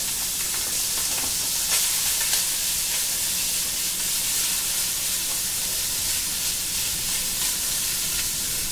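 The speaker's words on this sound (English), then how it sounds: "That's sauteing nicely." Vegetables sauteing in a pan at medium heat for penne rustica, giving a steady, even sizzle and hiss with a few soft crackles, loud and close throughout, with no talking.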